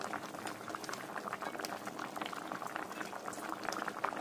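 Egg and potato curry bubbles in a pan, a steady close-up simmer of small pops and gurgles with no voices.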